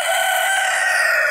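A Dark Brahma rooster crows loudly and close by in one sustained, high, strained call that fills the whole moment.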